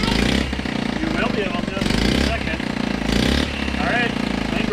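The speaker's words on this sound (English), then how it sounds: "we did just kick it over once and it ran, so let's give it another shot here" A Honda Mini Trail motorcycle, revived after ten years of neglect, starts and runs with a close, uneven putter that surges and dips, while people talk excitedly over the engine.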